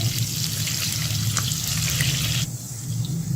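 Onions and green chillies fry in hot oil for a haleem tadka, giving a steady, close, loud sizzle that softens slightly near the end.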